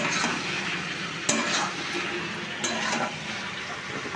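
Prawns and spices for chilli prawn are stirred in a hot pan, giving a continuous sizzle with scraping spoon strokes recurring every second or so, close and fairly loud with no talk.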